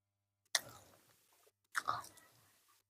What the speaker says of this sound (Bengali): তো এইভাবে আমি খেয়ে দেখবো কেমন হয়েছে